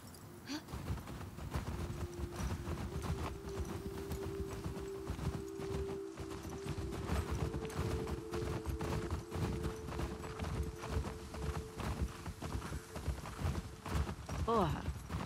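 A horse walks through the world of the video game The Last of Us Part II, its hooves clip-clopping in a steady walking rhythm. A short whinny sounds near the end.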